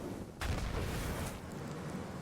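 Grenade blasts in the video game Borderlands 3, a Moze firestorm build where fire rains down after the impact: a sharp burst followed by a sustained rumbling roar of continuous explosions, with no talking.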